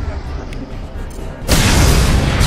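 Overloaded canisters detonate in the video game Mass Effect 2: after a low, murmuring stretch, a sudden loud broadband blast erupts and holds as a dense, sustained roar until the end.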